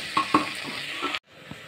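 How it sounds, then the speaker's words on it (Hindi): Chopped tomatoes being stirred into vegetables frying in a pan for masala rice: a steady sizzle with a couple of sharp spoon-scrape strokes near the start, cutting off suddenly before a softer sizzle resumes. "टमाटर को भी डालकर अच्छे से मिला लेंगे।"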